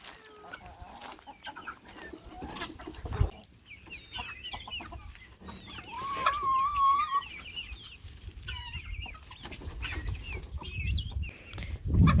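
Chickens squabble and cluck over freshly filled feed on a farm where peacocks are also kept, a busy flock chattering close by with sharp calls and scuffles, one bird giving a longer, louder call in the middle.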